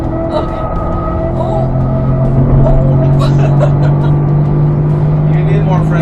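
GM truck with a 6.2L engine driving fast, a loud continuous engine drone with a rising pitch under steady road and wind noise, with people talking over it inside the cab.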